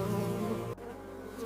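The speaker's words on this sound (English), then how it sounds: "The industrious worker bee returns, a vital harvest on its tiny legs." A worker bee buzzes loudly and close, a steady droning hum that cuts off abruptly halfway through, leaving fainter background sound.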